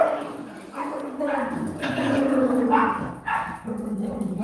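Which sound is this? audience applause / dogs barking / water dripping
dogs barking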